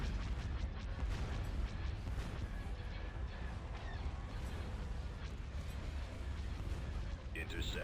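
Laser cannon fire and explosions in Star Wars: Empire at War, a dense, continuous barrage of booms and blasts with a voice speaking over it.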